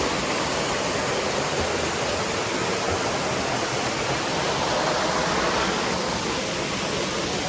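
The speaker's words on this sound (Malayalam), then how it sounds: "അപ്പോൾ ഈ മേളിലത്തെ വെള്ളച്ചാട്ടം കൂടെ നോക്കി" Mankayam waterfall roars with a constant, broad rush of falling water, loud and unbroken throughout with no voices.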